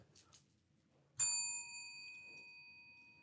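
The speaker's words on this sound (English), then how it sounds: "I like this bell. And I have to ding it in between" A single bell is dinged once, giving a bright metallic strike that rings on with a clear sustained tone and slowly fades, after a couple of faint soft knocks in a quiet room.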